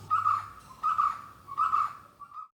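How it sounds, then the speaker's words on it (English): A white-cheeked barbet calls in a series of three or four repeated hollow notes at an even rhythm, fairly close and clear against a quiet background. "It's called the Chinna Kutturuvan because of the sound it makes."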